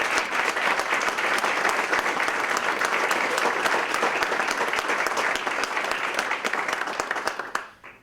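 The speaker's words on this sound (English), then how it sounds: "can we please have a round of applause for the parents in this room?" A room full of students and teachers at a high school senior awards breakfast gives the parents a steady, dense round of applause that fills the whole clip and fades out at the very end.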